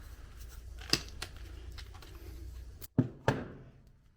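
Scissors or cutters snip through scrap electrical wire in a barn, with a few sharp cuts near the end after a lighter click early on, close and fairly quiet.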